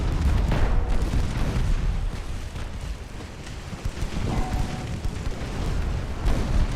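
Ammunition cooking off aboard a burning warship in Ultimate Admiral: Dreadnoughts, heard as a continuous rumbling roar of booms and bursts with low, heavy explosive energy throughout, no speech.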